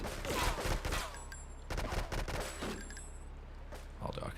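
An AK rifle fires in GTA Frosted Winter in rapid automatic bursts and single cracks, with several separate volleys, fairly close and loud, against a low background rumble. A voice is faintly present.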